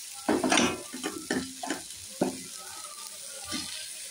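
Spice paste frying in a pan while being stirred: uneven scraping and clattering strokes over a steady sizzle, close and moderately loud, with the stirring fading after a few seconds.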